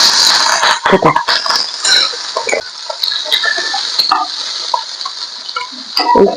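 Steady sizzling and crackling of capsicum frying in a hot pan, with occasional stirring clatter, close and fairly loud.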